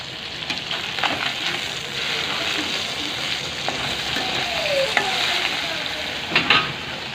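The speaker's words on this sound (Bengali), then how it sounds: "আর এদিকে মাছ ভাজা হচ্ছে।" Fish frying in a pan beside meat being cooked down, giving a steady close sizzle with scattered pops and crackles and occasional stirring scrapes, no talking.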